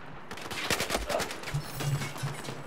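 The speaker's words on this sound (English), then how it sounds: "Hold on, who the heck's shooting at me?" Gunfire in the PC video game Battlefield 4, a quick burst of scattered shots and automatic fire aimed at the player, moderately loud with a dense cluster of sharp cracks.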